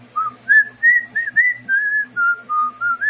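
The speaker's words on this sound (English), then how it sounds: "W is for whistle." A person whistles a simple tune close up, a series of clear pure notes in short phrases with brief breaths between them, alone without talk.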